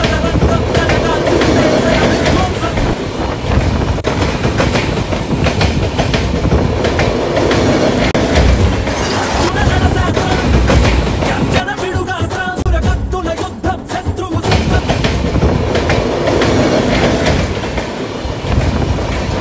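Onboard a MEMU passenger train running from Rajahmundry to Bhimavaram, a loud continuous rumble of wheels on rails with rhythmic clickety-clack and occasional squeals fills the whole stretch.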